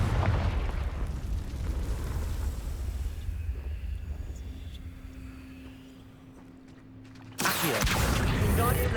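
A Confringo fire spell explodes in the Hogwarts Legacy video game: a rumbling blast decays into a low fading tail, then a second sharp, loud burst hits near the end.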